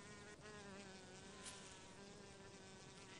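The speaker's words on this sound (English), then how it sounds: "it's by the wasps that appear at mealtime" A steady, close insect buzz of wasps hovering around a praying mantis's meal, droning on with no other sounds.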